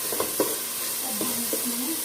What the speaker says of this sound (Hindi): मसाला हमारा अच्छे से भून गया।